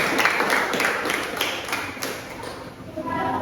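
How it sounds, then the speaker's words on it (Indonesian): Audience applause for two panel teams at a student civil-law moderated session, a lively burst of scattered hand claps and taps at close range, easing slightly before picking up again, with faint voices in the room. "Berikan tepuk tangan yang meriah kepada tim panel 1 dan tim panel 2 kelompok 4"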